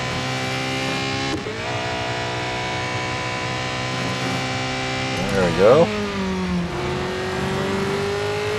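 A race car engine in Real Racing 3 drones steadily at high revs, with pitch sweeps as it shifts and accelerates, while someone talks briefly over it.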